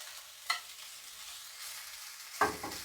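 Potato pancake frying in a little safflower oil in a non-stick pan, a soft steady sizzle with two brief sharp clinks or scrapes, near and moderately quiet, no talk.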